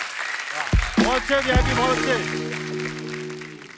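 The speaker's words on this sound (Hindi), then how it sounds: "जोरदार तालियां हो जाए वीआईपी भाई के लिए" Studio audience applause on the Kapil Sharma Show rises under a voice speaking in Hindi, the clapping a moderate wash behind his words.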